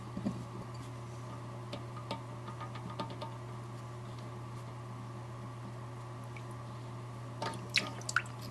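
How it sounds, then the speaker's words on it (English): Water dripping from a toilet valve into a small bowl under a sink: faint, sparse drips and ticks, a few closer together near the end, over a steady low hum. "Just catching some of the water in a little bowl."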